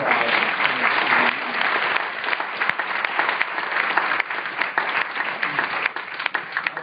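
An audience at a coal export forum at Concordia University claps for panelists, a loud, continuous round of applause from a modest crowd, with no speech over it.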